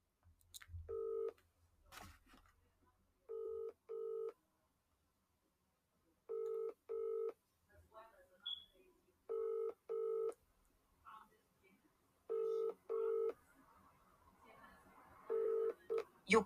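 Telephone keypad tones beep in short paired bursts, spaced out in an irregular rhythm, while a cold call is being placed, clear and alone against near silence.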